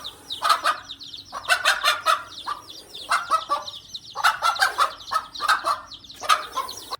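A mother hen clucks in repeated quick bursts, close and steady, with short gaps between each run of calls and no talk.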